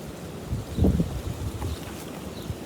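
Steady outdoor wind buffets the microphone with low rumbling gusts in a UK garden, loud and continuous, with no voices.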